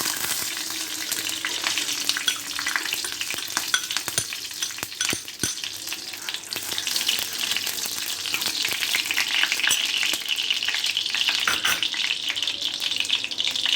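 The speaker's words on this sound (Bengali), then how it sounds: "এর মধ্যে 2 চামচ পরিমাণে ঘি দিয়ে দিচ্ছি" Two spoons of ghee heat in a hot kadai on a stove, giving a continuous close sizzle and hiss dotted with sharp metallic ticks and light stirring.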